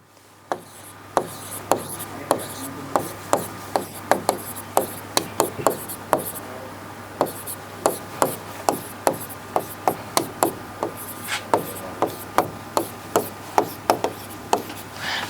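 A question is written on a board with a series of sharp, regular taps and scratches, one stroke after another, close and clear over a low background hum for about fifteen seconds, with no voice.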